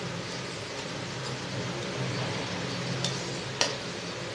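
Whole spices such as bay leaves, cinnamon, stone flower, cardamom and cloves frying in hot oil for chicken dum biryani, giving a steady soft sizzle with faint clinks from the pan.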